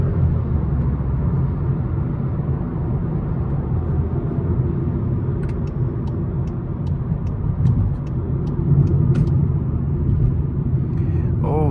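Inside a Volkswagen Polo R-Line on the move, a steady low road and engine rumble fills the cabin, with faint ticking of an indicator partway through and a voice briefly near the end.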